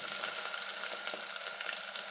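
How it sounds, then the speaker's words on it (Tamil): Chopped onions hiss and sizzle steadily in hot oil with whole spices, a continuous close frying crackle with no talk, while making a Hyderabadi chicken gravy. "இப்போ நம்ம கட் பண்ணி வச்சுருக்கிற வெங்காயத்தை வந்து ஆட் பண்ணிக்கலாம்"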